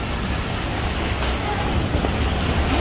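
Heavy rain falling steadily in Dadyal, a dense continuous hiss of drops pouring onto surfaces with no voices, loud and unbroken throughout.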